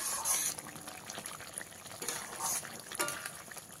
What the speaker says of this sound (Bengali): ঢ্যাঁড়সটা দিয়ে অল্প সময় ফুটিয়ে নিয়েছি